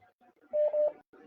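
Touch-tone dialing of a telephone number, a few steady DTMF beeps in quick succession, clear and close, with faint background sound around them.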